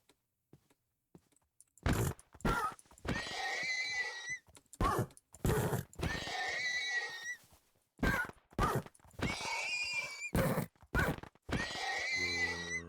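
Blocky horses in the Minecraft Cobblemon modded game whinny again and again, a string of bright neighing calls in irregular bursts with short gaps between them, clear and up front.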